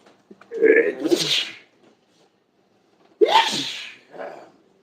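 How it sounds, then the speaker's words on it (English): Two sneezes ring out a couple of seconds apart, each a sharp intake and loud burst close to the listener, the second trailing into a softer sound. "my body will start sneezing"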